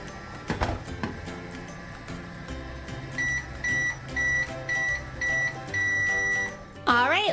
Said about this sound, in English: We'll put him in our microwave.